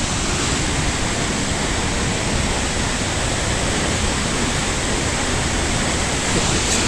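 A Rocky Mountain waterfall in Alberta roars as a steady, loud, broadband rush of falling water, unchanging throughout and heard close with no voices.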